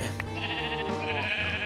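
Sheep bleat in the Minecraft video game, several drawn-out nasal calls overlapping in a steady, fairly loud stream with no talk.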